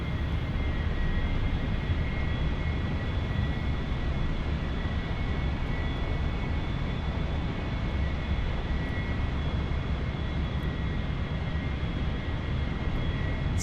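An A-4E Skyhawk jet engine in the DCS World flight simulator drones steadily throughout a carrier landing approach. The roar is constant and even, with a faint high whine riding above it.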